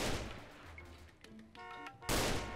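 Gunfire aimed at a car in the police game Notruf Hamburg: a loud, harsh burst opens, then a quieter stretch, then another sharp blast near the end.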